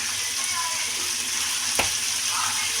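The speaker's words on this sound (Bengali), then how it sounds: "এদিকে তাওয়া বসিয়ে দিয়েছি বন্ধুরা, চিংড়ি মাছটা ভালো করে ভেজে নেব" Prawns frying on a hot tawa with salt and turmeric give off a constant, even sizzling hiss close by, with a single sharp knock partway through.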